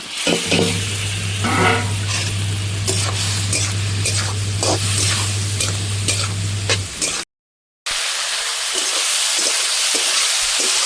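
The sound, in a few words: fried okra (bhindi) sizzling in a pan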